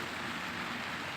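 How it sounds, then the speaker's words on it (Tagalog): Heavy rain pours down in a steady, dense hiss, constant and close, with no pauses or other sounds standing out. "Medyo malakas po yung ulan."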